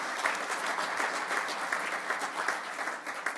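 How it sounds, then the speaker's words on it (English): Applause from a crowd at a World Environment Day event greets the caterers, a continuous even patter of many hands clapping, moderately distant and steady for a few seconds with no talk over it. "So big round of applause for the guys at Sandro."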